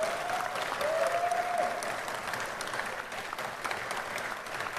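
Audience applause after a Philippine political speech, a steady rush of many hands clapping with a brief whistle near the start, even and continuous for several seconds.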